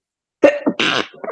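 A single sharp human sneeze-like burst after a moment of silence, close and loud, followed by a short breathy trailing sound.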